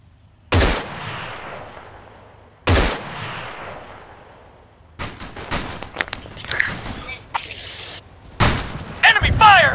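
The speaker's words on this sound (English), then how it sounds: "Enemy fire!" Gunfire rings out in a military shooter video game. Two sharp, loud single shots come first, then rapid bursts and scattered cracks, with voices talking in between.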